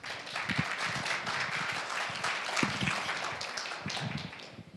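Applause from an audience at an evening talk on entrepreneurship, as someone speaker is welcomed on stage; dense, steady clapping fills the moment at a moderate distance, no voices over it.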